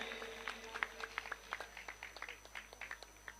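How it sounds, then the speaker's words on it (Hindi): Scattered applause from a Ramlila audience at an outdoor stage celebration, with fairly faint, irregular claps from a modest crowd that stay uneven and never swell into a dense ovation. "एक बार जोरदार तालियां साहिल गिरी के लिए।"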